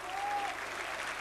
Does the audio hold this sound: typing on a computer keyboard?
no